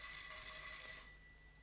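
A bell rung to summon a servant gives a bright, high metallic ring that lasts about a second and then quickly fades out.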